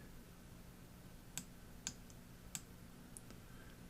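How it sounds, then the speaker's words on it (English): A computer mouse gives a few quiet, sharp right-clicks, spaced irregularly against a faint steady hum in an otherwise silent room. "Right click there"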